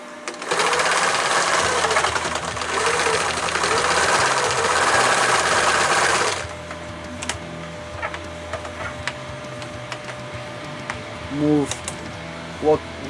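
A sewing machine runs in a steady, loud burst for about six seconds while stitching a backpack strap adjuster on a 50L rolltop backpack, then stops, leaving quiet handling sounds and a few faint clicks.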